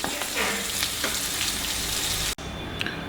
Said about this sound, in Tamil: நம்ம அரைச்சி வச்சோம்ல மசாலா, அதை மசாலா பொரிக்கணும்.